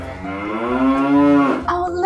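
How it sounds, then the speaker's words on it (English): A cow in a barn gives one long, loud, drawn-out moo with a rising and falling tone, close by and alone, lasting nearly two seconds before a short shuffle. "Oh, look, it's a cow in the barn."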